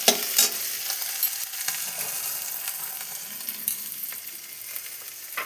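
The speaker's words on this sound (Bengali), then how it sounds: "ক্যাপসিকামটাও আমার ভাজা হয়ে গেছে।" Capsicum, chopped ginger and torn green chilli fry in a pan with a soft, steady sizzle broken by scraping stirs, close and moderately quiet, with no talking.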